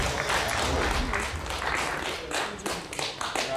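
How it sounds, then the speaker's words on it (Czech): Studio audience at a Czech talk show claps steadily as a guest walks on, a loud, close wash of applause from start to finish with faint voices underneath. "Dámy a pánové, potlesk pro bývalou přítelkyni Carlose Vémoli a matku jeho dcery Lily."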